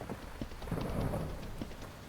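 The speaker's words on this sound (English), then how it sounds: "Thunderstorming." Steady rain from a thunderstorm hisses continuously, with a low rumble of thunder swelling through the middle, moderately close and without talk.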